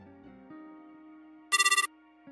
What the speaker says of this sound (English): Oh, sorry, I'm getting a phone call.